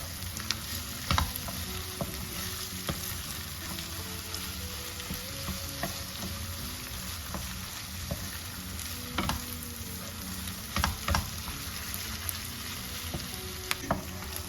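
Tomato paste fries in oil while a spoon stirs it, giving a steady close sizzle broken by occasional scraping knocks against the pan, with no voices.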